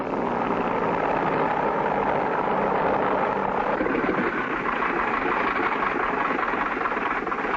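Cartoon airplane engine idling as the plane taxis along a snowy Alaskan runway, a continuous steady droning rumble that stays loud and even, with no voices.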